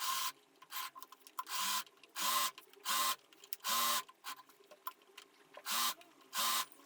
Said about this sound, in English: I sew them at the sides and the neckline in the seam